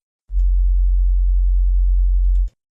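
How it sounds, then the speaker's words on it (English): A 45 Hz low sine tone from a signal generator in Cubase, a loud steady deep hum lasting about two seconds with a clean start and stop. "When we play it back, you'll hear a really low tone coming out."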